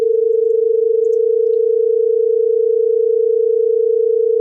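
A steady pure tone with a fast, even pulsing wobble throughout, loud and unbroken, two tones 25 Hz apart beating against each other.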